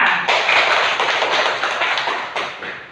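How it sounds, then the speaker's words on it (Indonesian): A classroom full of children claps together in a loud, dense burst of applause that fades toward the end. "Tepuk tangan buat kita semua."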